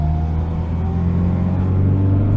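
An Austin Maestro City with its A-series engine drives along a road, producing a steady, loud, droning hum with low tonal harmonics that climb slightly in pitch toward the end as it pulls away.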